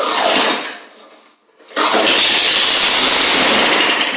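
An old Tecumseh engine on a 1990s MTD Yard Machines push mower, running without a muffler, is pull-started: a rising mechanical rasp fades to a short silence, then the engine bursts into a loud, sustained, raw roar.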